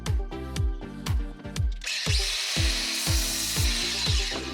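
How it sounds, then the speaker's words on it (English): A power tool shaves down a part being fitted to a Ford Transit Custom camper van roof, a sustained harsh grinding with rhythmic thumping pulses, loud and close, running without talk. "Shave it down a touch, offer it back up, see how it fits."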